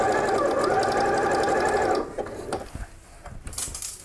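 A sewing machine runs steadily for about two seconds, stitching a backstitch along patchwork binding, then stops and leaves only soft handling clicks and rustles.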